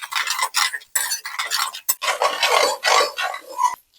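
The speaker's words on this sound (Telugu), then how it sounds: "నెక్స్ట్ పసుపు, ఇప్పుడు కలుపుకుందాము." A spoon scrapes and stirs egg fried rice in a pan after turmeric goes in, giving a series of rough rasping strokes in uneven bursts with brief gaps, close and fairly loud.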